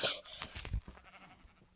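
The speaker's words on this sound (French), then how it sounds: "Ah voilà, mouton, un mouton, 2 moutons." Sheep bleating in a video game, a single short wavering bleat up close with a sharp attack, fading into quiet game ambience.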